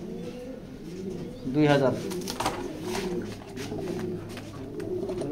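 A pair of red checker pigeons in a loft coo softly, with one clear burst of cooing in the middle, while someone talks over them.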